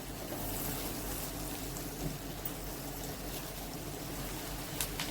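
Onion sautéing in a pan for a Schezwan cheese corn recipe, after garlic, ginger and chili paste were fried first: a steady, dense sizzle and hiss that runs unbroken throughout, with no voices over it.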